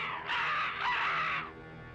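A single drawn-out, raspy crow caw, loud and close, lasting over a second with no talking.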